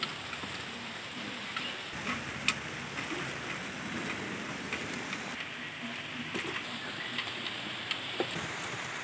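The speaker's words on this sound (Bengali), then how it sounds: "রান্নার আগে বৃষ্টি চলে এলো, সব জলে ভিজে গেছে" Steady rain falls outdoors around an open-air cooking spot, a soft, even hiss with occasional drips and ticks, fairly faint and unbroken for the whole stretch.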